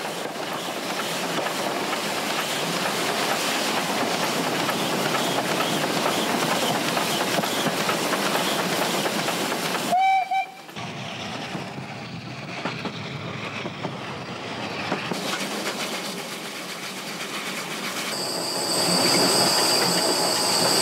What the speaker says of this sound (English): the train attacked the steep climb towards Chemnitz